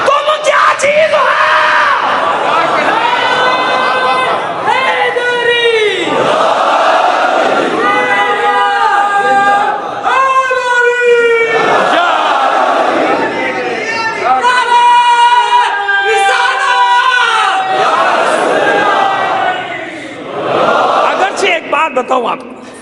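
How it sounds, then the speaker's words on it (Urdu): A large crowd at a Muharram majlis in an imambargah shouts religious slogans in loud, overlapping bursts of chanting and yelling, sustained and close with uneven rhythm. "اگرچہ کہ پراگندہ نعرے لگ رہے ہیں"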